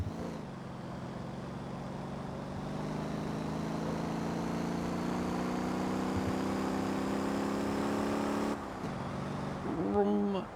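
A car driving in the Motor Town video game, its steady engine drone holding loud and close for most of the stretch before cutting off near the end, with a voice speaking briefly afterward.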